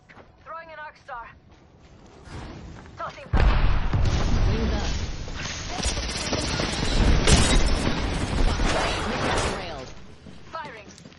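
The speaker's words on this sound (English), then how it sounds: "Throwing an arc star." An arc star grenade thrown during an Apex Legends match, followed by a sudden loud burst of explosive booms and rapid gunfire that rumbles on for several seconds, with a voice talking briefly before the blast.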